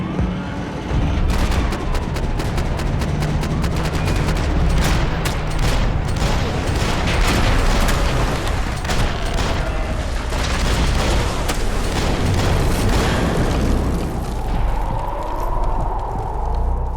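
Dense gunfire in the video game Max Payne 3: rapid repeated shots and heavy booming blasts crackle loudly and almost continuously, with rumbling impacts underneath and a brief lull near the end.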